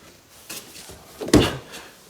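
The rear-hinged back door of a 6-speed Toyota FJ Cruiser swings open with a soft rustle and then a single sharp latch clunk, close and clear.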